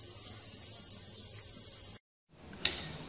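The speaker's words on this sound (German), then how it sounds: "und jetzt kurz unter dem Wasserhahn waschen." Kitchen tap water runs steadily over a gutted sea bass being rinsed before grilling for a Turkish recipe, a constant close hiss that cuts out briefly and then resumes, with a small splash as the flow returns.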